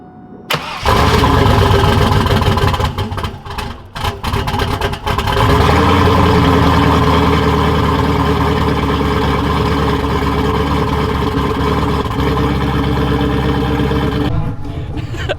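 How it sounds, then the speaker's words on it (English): A big-turbo Chevrolet Camaro SS engine cranks and fires at close range, then settles into a loud, steady, rumbling idle that holds for about ten seconds before cutting off. "let's start this thing up."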